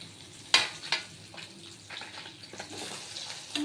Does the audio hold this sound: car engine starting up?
no